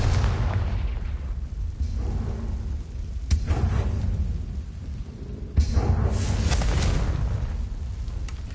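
Confringo spell blasts in Hogwarts Legacy boom twice with sharp cracks followed by heavy rumbling, loud and close, over continuous low game ambience.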